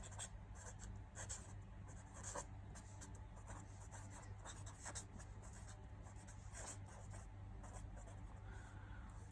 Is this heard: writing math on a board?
yes